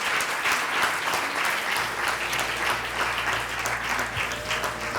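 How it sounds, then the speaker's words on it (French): Dense, steady applause from a conference audience at the close of an AI gathering, many hands clapping together continuously and fairly loud throughout, with no talking over it. "vraiment des applaudissements"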